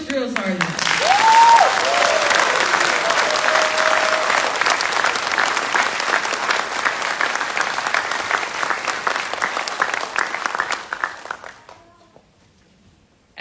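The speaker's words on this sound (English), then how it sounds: "please join me in a round of applause for the Army's newest drill sergeant" Loud, steady audience applause at an Army graduation ceremony for a new drill sergeant, holding for about eleven seconds with a whoop and crowd voices inside it, then fading out to near silence.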